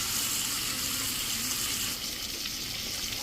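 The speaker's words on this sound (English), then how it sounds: "then we'll put it over into the hot oil" Cube steak frying in hot oil in a skillet, a loud, close, continuous hiss of sizzling with no talk over it.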